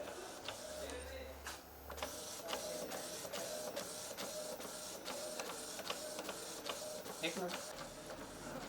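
An Epson inkjet printer prints a page after a service-required reset, with a rapid, regular series of mechanical clicks and a whirring carriage running throughout. Someone talks briefly nearby.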